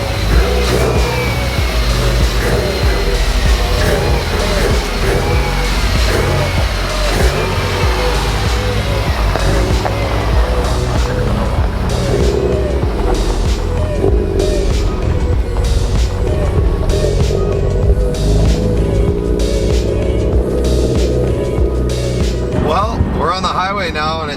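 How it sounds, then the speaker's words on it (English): A Subaru STI with a suspected bad air-fuel sensor idles unevenly, its engine note rising and dipping irregularly while someone talks over it close by for most of the stretch. "It usually idled okay for the first couple seconds, and then it was going all over the place."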